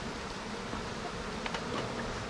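Honey bees swarm around an open hive, giving a continuous, even buzzing hum close by with no voices over it.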